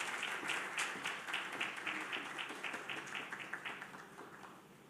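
An awards ceremony audience applauds, a dense steady patter of many hands clapping that slowly thins and fades toward the end.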